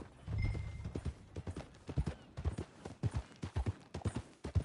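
Horses gallop in the Red Dead Redemption 2 video game, their hooves pounding in a quick, rhythmic clip-clop, with a brief whinny early on.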